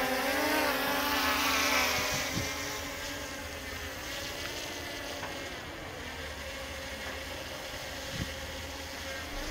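A drone hovers and flies over a toll gate and exit at Muara Sebapo, giving a constant high buzzing whine with a steady pitch and a few faint clicks.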